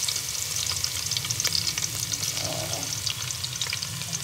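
A thin layer of oil sizzles and crackles in a pan with fresh garlic-ginger paste being stirred in. The frying noise is close and constant, with no speech.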